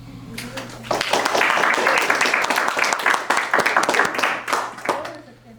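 An audience claps for a speaker at a talk, a dense steady round of applause that starts suddenly and fades toward the end, with a low steady hum underneath.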